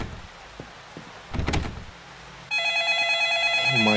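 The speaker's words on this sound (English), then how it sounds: "well the phone is ringing" A telephone rings in the horror video game The Horrors: Lost Tape. After a brief thud and a rustle, a loud, steady electronic trill begins and fills the second half with no talking.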